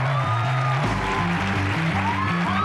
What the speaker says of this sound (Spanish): Un aplauso para Tony Dalton y Christoph.